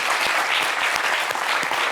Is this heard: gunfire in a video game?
no